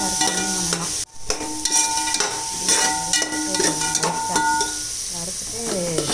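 Black pepper and cumin dry-roasting in a pan for a Tamil kootanchoru dish, giving a steady close sizzle with stirring scrapes and tonal hum throughout, briefly cut off near the start.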